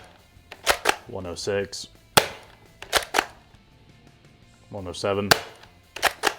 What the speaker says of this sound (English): blaster shoots at an average around 150 FPS, which is about standard for what this thing can do